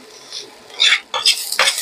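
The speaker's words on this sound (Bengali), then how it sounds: "পেঁয়াজটাকে একটু ভালো করে ভেজে নেবো।" Chopped onion and green chili fry in white oil in a pan while a utensil stirs them, giving three or four short scraping, sizzling strokes close up in quick succession, with no talking.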